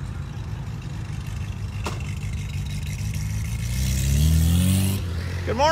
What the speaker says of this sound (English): the cars are just rolling in like freaking crazy time